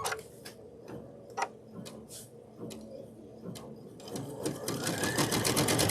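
A sewing machine runs a placement stitch for a needlebook and pincushion project, its rapid mechanical ticking steady and close, growing denser and louder toward the end.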